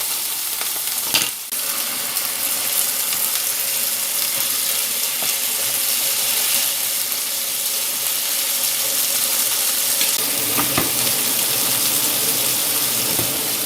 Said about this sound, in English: So now we'll cook off these lamb steaks.